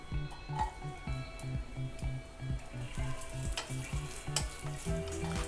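Coconut pieces frying in a mix of ghee and oil for a Kerala-style kadala curry, a steady close sizzle with soft stirring and scraping, rhythmic utensil strokes repeating throughout, no talking.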